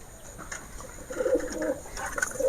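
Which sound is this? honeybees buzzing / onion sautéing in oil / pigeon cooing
pigeon cooing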